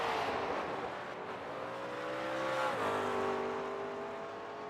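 A GT3 race car on the Montreal circuit in iRacing, its engine pulling hard out of a hairpin with a steady rising drone, a gear change near the middle, then climbing again, loud and continuous with no talk.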